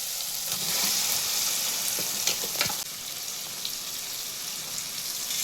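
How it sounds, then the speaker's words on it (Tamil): Baby potatoes fry in a pan of spicy masala for a Chettinad-style dish, giving a steady close sizzle with a few stirring scrapes and clicks and no talking. "அடுத்ததாக நம்ம அந்த உருளைக்கிழங்கு போட்டிக்கிறோம்."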